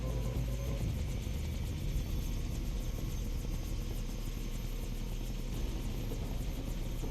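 Helicopter in the video game Far Cry 3, a steady, loud rotor chop and engine drone that carries on without a break and fills the whole stretch, with no talk over it.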